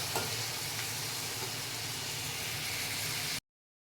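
Onions, green chillies and tomato fry in oil for a chicken curry, a steady, dense close sizzle that carries on evenly and then cuts off abruptly.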